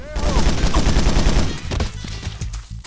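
Rapid automatic assault rifle fire in the video game Fugitive Hunter: War on Terror, a loud dense burst for about a second and a half, then scattered single shots and echoes trailing off.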